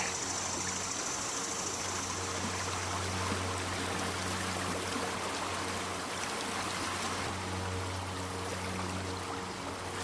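Snowy Washington creek water flows through a gold sluice box, a loud, steady rushing wash with a low rumbling undertone, continuous and close, with no one speaking.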